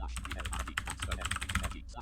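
Rapid keyboard typing on a computer during a live coding session, a dense run of close, crisp key clicks for about two seconds with no speech.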